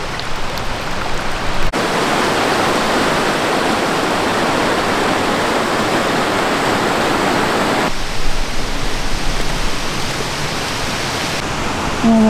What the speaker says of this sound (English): Little creek walk.